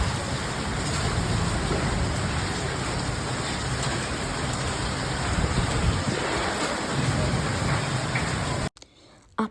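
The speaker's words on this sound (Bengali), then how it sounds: "প্রচণ্ড পরিমাণে বজ্রপাত হচ্ছে এবং বৃষ্টির পানির ছাট আসছে, তার সাথে প্রচণ্ড শব্দে হচ্ছে ঝড়ো বাতাস।" Kalbaishakhi storm with heavy rain and strong wind, a loud, continuous dense roar of rain and gusts close by for most of the clip before it cuts off abruptly near the end; no distinct thunder claps stand out.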